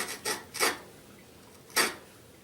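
Short rasping strokes of a blade chamfering the end of a yucca bow-drill spindle, four distinct scrapes in an uneven rhythm, close and fairly quiet with brief pauses between them.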